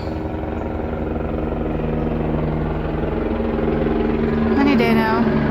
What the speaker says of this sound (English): oh, there's an airplane going by.